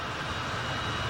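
Airplane engines in flight heard from inside the cabin: a steady, even broadband roar with a low rumble, continuous and unbroken for the whole moment, with no voices.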